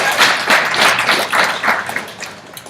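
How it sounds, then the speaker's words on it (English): An audience at an Army War College graduation lecture gives a round of applause, a dense wash of many hands clapping that is loud at first and then tapers off over a few seconds. "Can we please appreciate the Commandant for General round of applause?"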